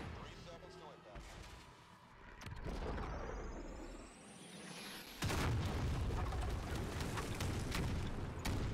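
Demolition charges detonate in a combat video game, deep booms and rumbling blasts with gunfire and a sudden louder explosion partway through, mixed with game voices talking.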